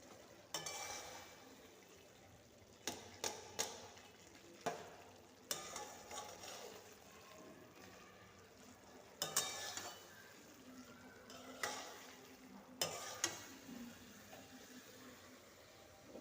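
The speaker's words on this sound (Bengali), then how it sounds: "পোস্তটা দিয়ে নাড়চাড় করে নিচ্ছি" Poppy seeds stirred in a hot pan while cooking temple offering food, a soft sizzle under intermittent scraping and clinking of a spatula against the pan, quiet and close.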